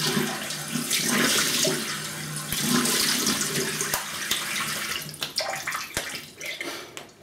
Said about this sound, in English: quick rinse then